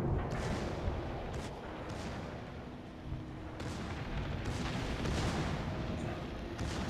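Heavy naval guns boom from warships in the World of Warships Legends naval battle game, a dense rumbling barrage of deep, repeated blasts over steady background noise.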